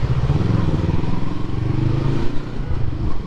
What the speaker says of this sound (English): This guy with a bike with just the frame and the engine, literally